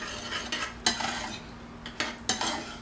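Spring slaw being mixed with about a quarter cup of natural mayo in a bowl: scattered stirring scrapes and a few sharp utensil clinks against the dish, close and fairly quiet with no talking.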